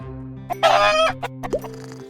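A chicken clucks in short bursts over a steady tonal background, with a louder squawk early on and a few clipped clucks after, close by.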